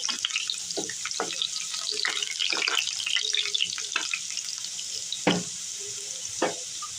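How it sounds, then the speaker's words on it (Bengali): Potato pieces browning in hot oil for alur dom crackle and spatter in scattered, fairly faint pops over a soft background hiss. "এখানে আমি আলুগুলা ব্রাউন কালার করে ভেজে নিচ্ছি।"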